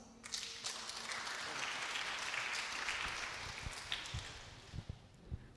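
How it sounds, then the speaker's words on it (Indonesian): Audience clapping at a high school graduation ceremony in Jakarta, a dense burst of applause from many hands that fades into scattered claps over a few seconds. "Mari kita beri aplaus."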